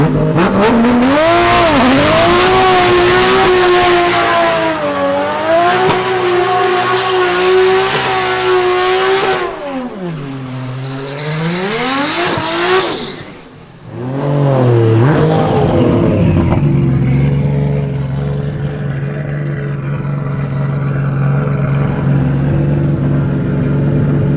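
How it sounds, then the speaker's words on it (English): A BMW E36 with a new engine revs hard and loud during a burnout, pitch rising and falling, then settles into a sustained high-revving roar as the tires spin, close by. "I can do a burnout."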